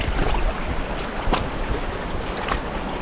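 Broad, steady rushing of river water in a lush garden-like valley on Réunion's Bras de la Plaine trail, a continuous close wash with no voices.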